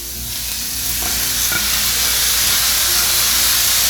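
Pork is stir-fried over high heat in a pan for a Thai-style dish, giving a steady, loud, close sizzle with a constant hiss that runs the whole time, with no one talking.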